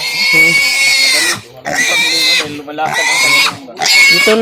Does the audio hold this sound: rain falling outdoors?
no